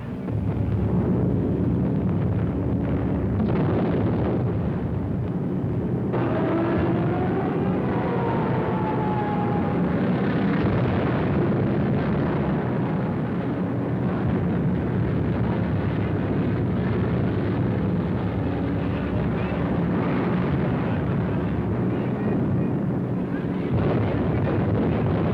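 Bombing raid explosions in a wartime documentary film, heard as a continuous dense roar of blasts and rumbling under aircraft drone, loud and unbroken throughout.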